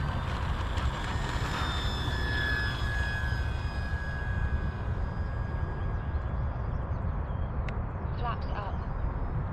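An FMS Cessna 182 radio-controlled model airplane on a test flight, its electric motor giving a thin whine that rises and falls in pitch over constant heavy outdoor wind noise.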